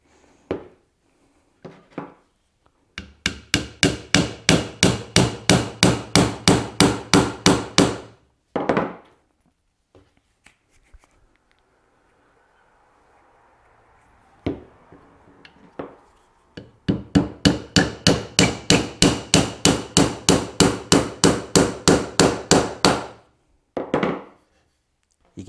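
A hammer drives wooden dowels into a dovetail drawer joint in two long bursts of rapid, evenly spaced knocks. A few scattered single taps and a quiet pause sit between the bursts.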